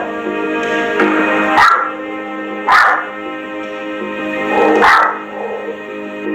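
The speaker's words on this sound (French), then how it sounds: "Le propriétaire filme pendant que le chien aboie à la table." A small dog indoors in a living room barks at a table, three sharp separate barks spaced about a second apart, close and loud, with faint whimpering tones running between them.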